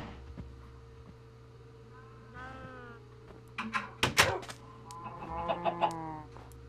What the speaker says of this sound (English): Good chicken.